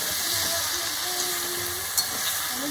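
Ground tomatoes tipped into frying ginger and green chili for navratan curry, a steady close sizzle with faint stirring scrapes and a brief clink.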